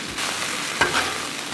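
Sausage and cream cheese stirred together on a Blackstone griddle, a soft steady sizzle with a brief scraping stir partway through, fairly faint and without talk.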